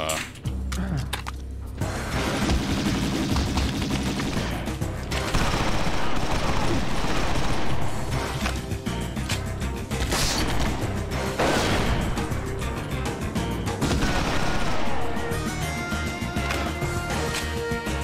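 Grenade launcher in a video game firing repeatedly with explosions, a dense, loud, continuous barrage of blasts and mechanical clatter that lasts throughout, with little pause.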